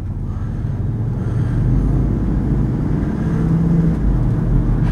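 A 2004 Hummer H2 4WD SUV with a 316-horsepower engine drives along a road, giving a steady, fairly quiet low engine and road rumble inside the cabin that swells slightly partway through.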